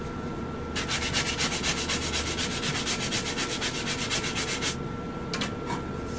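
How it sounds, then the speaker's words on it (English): Rhythmic back-and-forth hand sanding strokes on a wooden drone flute held against a leg, close and steady for several seconds, then a pause and a few final short rubs. "you see how I'm sanding it, holding it against my leg or something"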